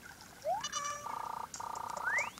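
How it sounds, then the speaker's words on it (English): A frog croaking in the video game Animal Crossing New Leaf, heard as a rising chirp followed by two long buzzing, pulsing croaks with a final upward sweep, clear and close with no talk. "I got a frog."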